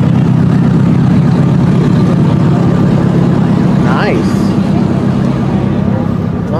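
A Porsche Cayman S engine rumbles low and steady at a car meet, blended with crowd chatter and other idling cars, with a brief rising whine partway through.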